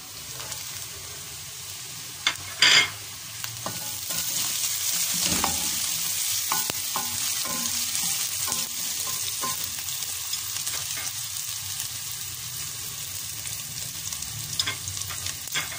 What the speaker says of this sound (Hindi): ये मैंने इसमें डाल दिया है, और हल्की आंच पर इसको भी थोड़ा सा भूनना है